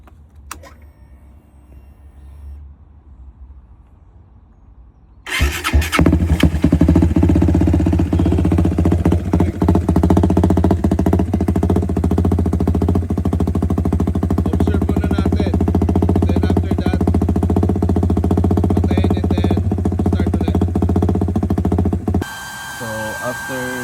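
A refreshed pit bike engine sits quietly at first, then fires up abruptly into a loud, rough, sputtering idle that runs steadily for many seconds before cutting off near the end.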